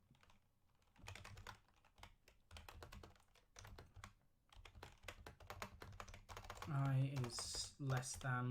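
Rapid keyboard typing while Java code is written on a computer, clicking steadily under a man's explanatory speech, with a denser burst of keystrokes near the end.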